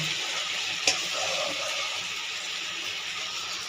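Pieces of ridge gourd hit hot oil in a pan with cumin powder, giving a soft, even sizzle with a single clink near the start and no one talking.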